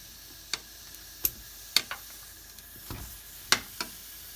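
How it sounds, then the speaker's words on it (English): Aubergine cubes frying in a pan, a soft steady sizzle broken by several sharp ticks and clacks of stirring or turning, close and alone. "The shell of the aubergine is now slightly black, so we fry it on the other sides."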